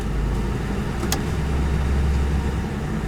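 Idling engine of a government-auction police car as it is shifted through its gears, a steady close rumble with one brief sharp click partway through.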